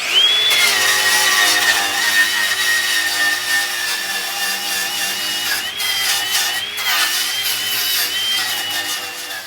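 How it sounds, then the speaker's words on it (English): Wire cup brush on an angle grinder scrubbing a metal dump trailer gate, a loud sustained whine with rasping scratch that holds steadily throughout, pitch dipping slightly as pressure changes. "I'm going to take my wire cup grinder and clean up this surface"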